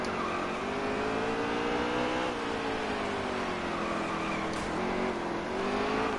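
NASCAR Heat 3 race car on the Charlotte Roval, engine droning loud and steady with pitch sliding down and back up as it shifts, a faint tyre squeal in the mix; no talking.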